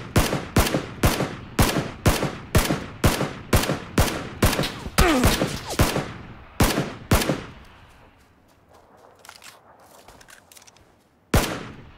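Enemy pistol or Uzi gunfire in a video game, a fast run of about fifteen sharp, evenly spaced shots over several seconds, then a quieter rattling lull and one last loud shot near the end.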